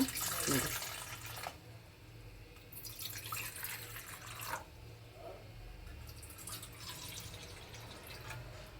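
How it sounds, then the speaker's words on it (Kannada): Water poured into a red-coloured sago (sabudana) mixture for sandige, heard as two splashy, hissing pours separated by a quieter pause. The sound is moderately close, set against a low background hum. "ಇದಕ್ಕೆ ಸ್ವಲ್ಪ ನೀರು ಹಾಕ್ಕೊಳ್ಳೋಣ"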